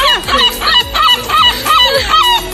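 Loud, rhythmic fowl calls, about five repeated squawking clucks spaced roughly half a second apart, close to the microphone with no talk over them; the calls carry a harsh, goose-like honking edge.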